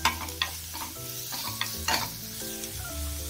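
Onions sauté in a pan for a brinjal masala, a soft continuous sizzle with a few clinks and scrapes of a spoon stirring, while steady tonal music plays underneath.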